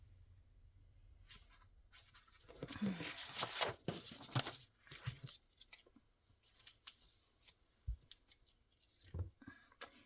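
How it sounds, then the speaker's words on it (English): Scissors trimming the white edge off a journal page during a crafting session, heard as a run of close, crisp snips and paper rustles with quiet pauses between them. "I should trim off the white. Yeah, because this would barely fit. I have to cut this down."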